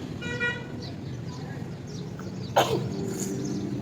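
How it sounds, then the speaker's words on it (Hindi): A single sharp sneeze bursts out partway through, sudden and close, amid a low background hum with faint tonal sounds. "मेरे को छींक इसलिए आ रही है"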